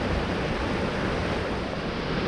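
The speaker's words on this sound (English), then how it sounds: "Moving outside the cave downstream, the water gets more turbulent" Loud, steady rush of turbulent river water churning downstream of a cave in Antalya, Türkiye, fills the whole stretch, a dense broadband roar with no pauses and no voices.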